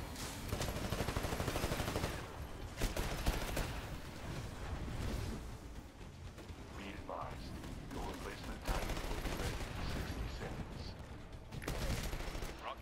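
Rapid gunfire in a Titanfall Attrition match on the Lagoon map, repeated bursts of close shots and machine-gun fire throughout, with players' voices talking over the action.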